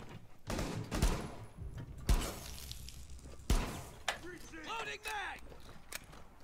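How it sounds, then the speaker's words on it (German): Gunfire rips through a wall in Rainbow Six Siege, several sharp shot bursts landing a second or so apart amid crunching, splintering debris, with voices talking over the action. "Die schießen da durch."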